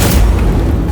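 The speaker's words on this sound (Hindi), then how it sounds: "ऐसे असंख्य विस्फोट होंगे कि सब कुछ नष्ट हो जाएगा" A single deep explosion boom from a cosmic destruction scene rumbles continuously through the moment, loud and low with no talk over it.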